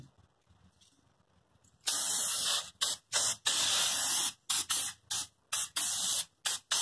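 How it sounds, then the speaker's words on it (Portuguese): Temporary spray adhesive is sprayed onto patchwork fabric for a heart-shaped rug in a series of loud hissing bursts of varied length with short gaps between them, and no one talks. "cola spray temporária"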